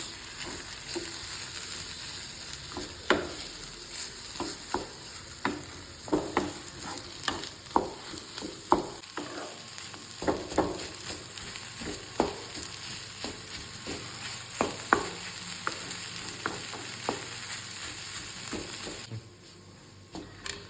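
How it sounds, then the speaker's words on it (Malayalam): Beaten egg and broccoli stirred together in a frying pan for a spiced broccoli stir-fry, a steady close sizzle broken by frequent sharp scrapes and clacks of the spoon against the pan. "നമ്മുടെ മുട്ടയും ബ്രോക്കോളിയും എല്ലാം കൂടെ നമുക്ക് മിക്സ് ചെയ്യാം"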